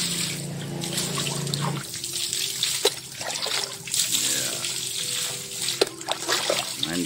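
Water runs and trickles continuously during a pet's morning bath, like a tap filling a basin, with a brief voice at the start and a few sharp knocks.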